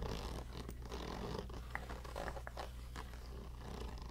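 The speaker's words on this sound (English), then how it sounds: "now I'm going to show you what I keep in this zippered portion right here" A zipper on a bag pocket is drawn open close up, with soft scratchy rasps and small rustles over a quiet background hum, with no speech.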